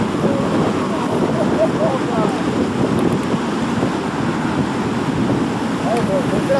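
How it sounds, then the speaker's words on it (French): Strong wind roars continuously during a Basque coastal thunderstorm, buffeting the microphone with a loud, steady rumbling gust throughout. "Du vent."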